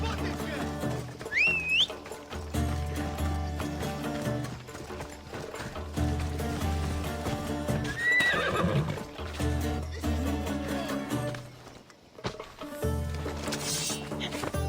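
A horse in a video game set in ancient Greece near the port of Gehries whinnies twice, clearly and fairly close, with hoof clip-clops beneath steady background music.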